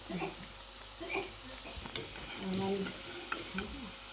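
Gujiya frying slowly in oil over low heat, a soft, steady sizzle with faint crackles and occasional light stirring or utensil taps, quiet and close.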